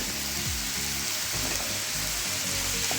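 Steady, close sizzling of onion frying in hot refined sunflower oil, a dense crackling hiss throughout with faint low clatters underneath.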